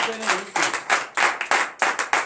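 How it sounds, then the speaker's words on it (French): A congregation at a morning prayer service in Benin claps in quick, rhythmic bursts of acclamation, loud and near, with a voice briefly audible at the start. "Donnez l'acclamation à Christ."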